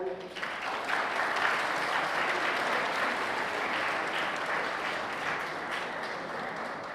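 An audience at an educational workshop lecture claps in a dense, sustained burst of applause that swells quickly and holds steady for several seconds, with possible faint voices beneath.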